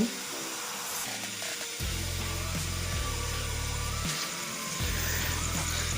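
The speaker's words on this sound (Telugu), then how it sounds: "దానికైతే డ్రిల్ అయితే వేసి చూద్దాం." An iBall electric screw and drill machine whirs at steady pitch, starting and stopping in several bursts as it bores into wood, close and fairly loud with no talking.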